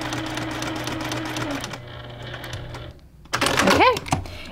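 Sewing machine stitching diagonal seam tape, a steady run of fast mechanical needle ticks that stops partway, followed by a brief quieter gap and then a louder burst of other noise.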